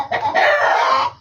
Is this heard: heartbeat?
no